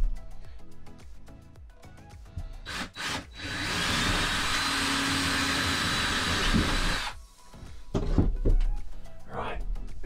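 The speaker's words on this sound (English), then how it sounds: "I'm going to drill a small hole to make sure there's nothing underneath that I'm going to hit." Power drill boring a small hole through a campervan floor near the base of a shower frame, a steady loud whirring that runs for about four seconds between knocks and handling noises, close by.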